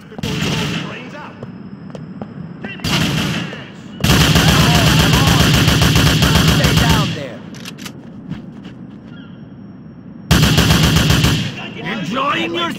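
Gunfire in Grand Theft Auto IV, long loud bursts of rapid automatic shots alternating with shorter volleys, with a character's shouting voice heard between and over the shooting.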